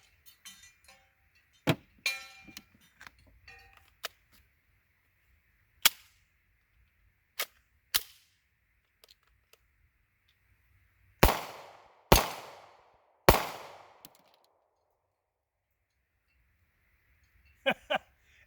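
A TEC 9 pistol fires a handful of sharp, sparse shots at uneven intervals. The strongest reports come in a cluster near the end, with faint clinks and quiet handling noises between them.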